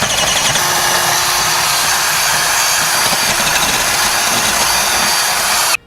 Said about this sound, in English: I'm just going to come back with that 1/2 inch drill bit and kind of wallow it out a little bit